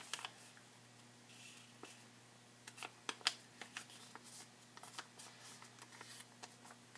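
Origami pattern paper with a momiji autumn-leaves design is folded in half and creased, giving faint scattered crisp crinkles and soft taps at close range.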